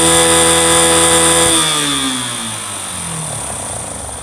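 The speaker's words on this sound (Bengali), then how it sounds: "এখন বাইকটার সাউন্ড" A repaired motorcycle idles loudly and close, its engine a steady buzzing drone that holds high and then winds down to a lower, quieter idle after revving off; no one speaks.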